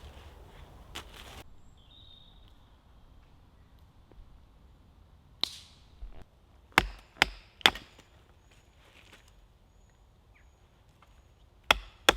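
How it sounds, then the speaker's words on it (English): Wood split for a campsite fire at dusk: a handful of sharp, separate chopping impacts spaced irregularly, several in a quick cluster near the middle and a couple more at the end, over quiet outdoor ambience with faint birds. "split up some wood because we're losing light fast"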